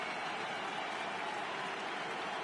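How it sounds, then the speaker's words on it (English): Stadium crowd at a 2018 NLDS Game 3 baseball game between the Nationals and Dodgers, a dense, steady roar of cheering and applause filling the whole stretch with no break. "The crowd is ready to erupt as their guys get set to take the field."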